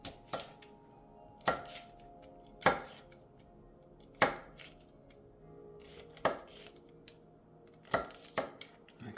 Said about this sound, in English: we'll chop this one up now